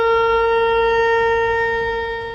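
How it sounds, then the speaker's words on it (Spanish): A shofar sounds a tekiah, one long unbroken trumpet-like blast with a steady, bright, horn-like tone, held loud and close for the full length before easing off slightly at the end. "Tequía. Es un sonido como de trompeta"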